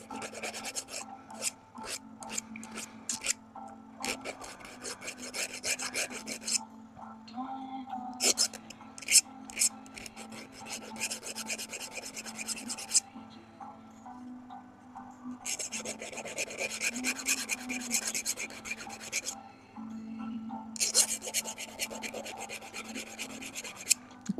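A grinder or rasp works down a fishing rod part in bursts of harsh scraping and rubbing, loud and close, with pauses between passes.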